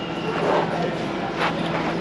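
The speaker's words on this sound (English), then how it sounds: "I'll be getting on this train until Stratford first" Elizabeth Line train interior, steady rumble and hiss of the carriage moving along the track toward Stratford, a continuous close noise with faint rhythmic clatter and a brief swell midway.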